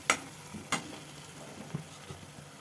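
Spice mix frying in oil for Kathiyawadi-style undhiyu, stirred with a few sharp scrapes and taps against the pan over a faint steady sizzle, close and fairly quiet.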